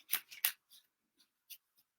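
A tarot deck is shuffled in quiet short bursts, two louder riffles near the start and then a few lighter, sparse flicks of cards.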